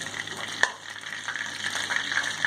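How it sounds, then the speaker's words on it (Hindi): Pieces of rohu fish fry in hot oil in a pan with a steady, close sizzle and crackle, plus one brief sharp clatter near the start, with no talking. "बस हमने इसे 2 से 3 मिनट फ्राई किया।"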